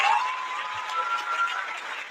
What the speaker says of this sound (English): this applause that you're getting